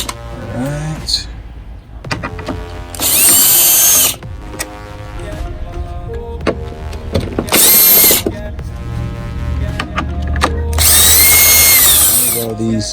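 A power drill spins out 10 mm bolts from the grille of a Mercedes S550 W222, three loud, high-pitched whirring bursts a few seconds apart, close up, with someone talking and tool clicks in between.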